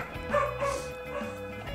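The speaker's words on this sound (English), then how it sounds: "My dog's barking." A dog barking indoors, a few short yips and bow-wows in quick succession with a whimpering edge, heard fairly close and alone.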